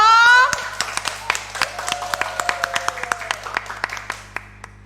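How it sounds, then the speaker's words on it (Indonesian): Scattered hand claps ring out in a small group at a relaxed uneven pace after a short voice at the start, thinning out toward the end. "Aplaus dong"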